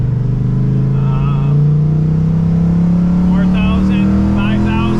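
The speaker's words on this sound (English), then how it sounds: "we are taking the Firebird for its first test drive" A 1979 Pontiac Firebird accelerates up a highway on-ramp on a test drive, its engine note climbing steadily in pitch as it revs hard, loud and close from inside the car, with voices talking over it.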